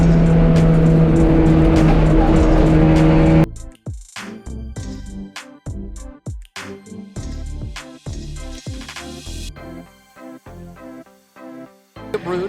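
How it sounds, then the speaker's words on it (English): TC America race cars take the green flag and charge into turn 1, loud engines roaring and rising through the gears as they pass close by in quick succession, under a sustained din with commentary. "cars now going on the attack into 1 as the TCA field takes the green"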